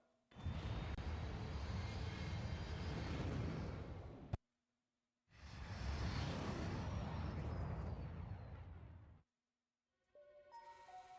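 Airplane engine roaring in a Ratchet: Deadlocked video game cutscene, two long loud sustained passes of dense engine noise broken by a short silence, then a tonal musical fragment at the close.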